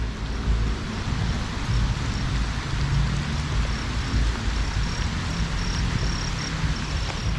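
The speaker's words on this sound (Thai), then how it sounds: "ตกปลาไปด้วย เปียกฝนไปด้วย" Steady rain pours down around an outdoor fishing spot, a dense, even hiss with low rumbling wash that persists without a break, no voices heard.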